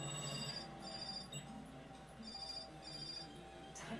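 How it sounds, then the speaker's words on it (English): A phone rings in repeated electronic bursts at a steady rhythm, fairly prominent over a low background hum, with no voices. "your phone's ringing."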